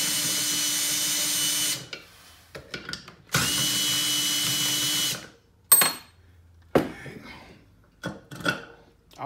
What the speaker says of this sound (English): this drill is kind of old. Does weird things.